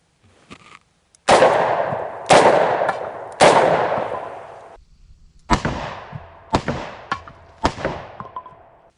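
Six loud, close revolver shots from a Lew Horton .44 Special firing 200 grain jacketed hollow points, three fired in quick succession, then a short pause, then three more, each crack followed by a brief ringing tail.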